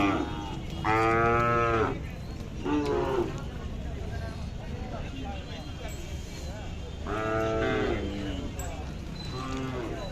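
A Khillar cow at a cattle market in Sangola gives two long, loud moos several seconds apart, with people talking and general market noise around it.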